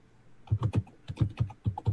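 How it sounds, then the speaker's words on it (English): Computer keyboard typing in irregular bursts of several sharp, fairly close clicks, with no talking over it. "That sounds like somebody's beating away on the keyboard."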